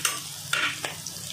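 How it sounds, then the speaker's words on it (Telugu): Meal maker soy chunks frying in a pan, a short close burst of sizzling with a couple of sharp stirring scrapes over a low crackle. "మిల్ మేకర్ ఇలా బాగా వేగాక"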